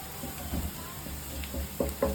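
Mutton sizzling and frying in a pan for a green gravy, a soft steady crackle with a few brief stirring knocks near the end, close and fairly quiet.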